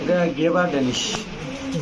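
Fancy pigeons on a breeding farm in Bangladesh give soft, repeated coos, close by and blended under steady male conversation throughout.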